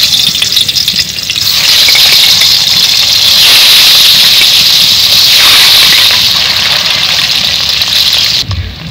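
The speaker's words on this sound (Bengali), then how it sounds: "এখন এই ডিমগুলো ভাজি করার জন্য দিয়ে দেব।" Eggs fry in hot oil seasoned with salt and turmeric, a loud, dense, continuous sizzle that holds steady and close before cutting off abruptly at the end.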